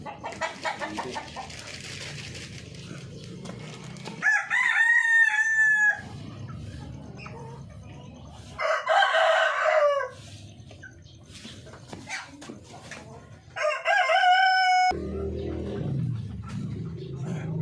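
Breeder chickens on a farm: roosters crow loudly three times over steady clucking and yard noise, with voices in the background between the crows.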